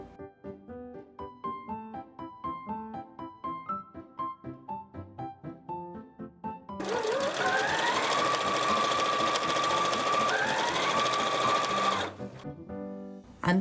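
A sewing machine runs in one steady, close whirring burst for about five seconds as it stitches a 1 cm seam down the centre back of a collared shirt. Light tonal background music plays before and around it.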